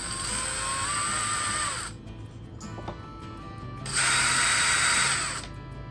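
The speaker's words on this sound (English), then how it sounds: "I'm gonna just take a couple of these screws out." Screws backed out of a thrift store Halloween decor piece with a powered driver, two whirring, ratcheting bursts with a quieter pause between them, close to the listener.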